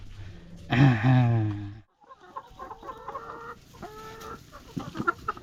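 Chickens in a farm coop give a loud burst of clucking and squawking up close, then quieter scattered clucks and chirps continue over a low background.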